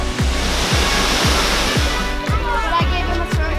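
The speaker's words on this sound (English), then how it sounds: "This is Thanksgiving Point waterfalls at the gardens." The garden waterfall at Thanksgiving Point roars as a steady, loud broadband rush, with a regular low thumping pulse running beneath the splash.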